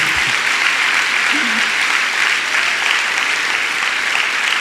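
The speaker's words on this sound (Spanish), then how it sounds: "Denle un aplauso al Señor para que no se me duerma nadie." A church congregation claps steadily throughout, a dense sustained wash of applause from a crowd, with a brief low voice near the start.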